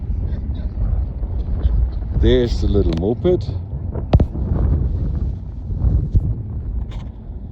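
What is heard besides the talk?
strong wind on top of Grossglockner mountain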